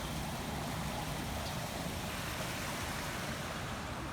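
Water pours steadily over a dam spillway in a broad, even rushing roar, continuous and unbroken, heard from nearby on a morning walk with no voices.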